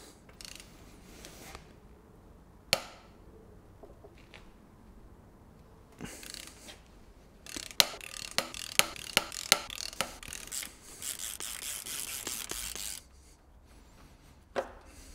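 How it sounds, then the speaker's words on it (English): Flywheel bolts on a supercharged BMW Alpina B7 V8 being loosened with a wrench while the crank is locked: a few scattered knocks, then a close run of sharp ratcheting clicks and scraping metal, with no talking. "I'm going to try and loosen all these bolts"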